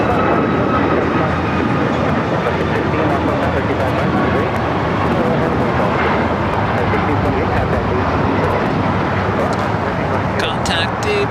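A jet airliner at Los Angeles International Airport (LAX) rumbles steadily with a loud, broad engine roar that holds for the whole stretch, with a faint whine near the end.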